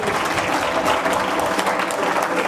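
Church congregation applauding at a celebration service, a loud, dense and continuous clapping from a crowd with no pause.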